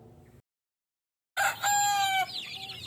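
Young gamefowl chicks at feeding time in their grower pen: after a brief silence, a burst of high, overlapping peeps and soft clucks rises nearby, then fades.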